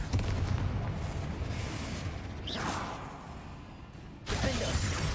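A Confringo blasting spell goes off in Hogwarts Legacy, a loud burst with a sharp crackling whoosh, then a second blast about four seconds later over continuous game noise.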